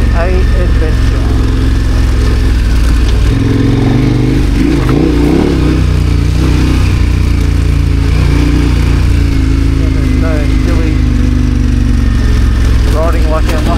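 An adventure motorcycle engine drones loudly and steadily while riding, its pitch rising and falling slightly with the throttle, buried in constant rushing wind noise.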